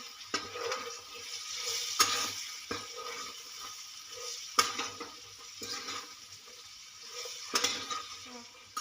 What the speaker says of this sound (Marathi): शेंग टाकूया त्याला मिक्स करूया आपण छान